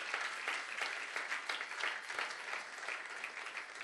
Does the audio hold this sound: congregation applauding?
yes